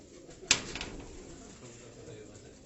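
Pigeons coo softly at a distance, with a sharp click and faint flutter near the start, then low murmuring calls under quiet background noise.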